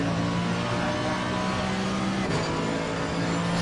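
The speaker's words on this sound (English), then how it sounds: "Hear the motors on these cars." The engine of a Mercedes-Benz Evo race car drones steadily in the racing game Assetto Corsa Competizione at Kyalami, heard close and loud. About two-thirds of the way through, the pitch drops sharply as the car shifts gear, then the engine climbs again.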